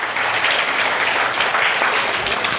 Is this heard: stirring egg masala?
no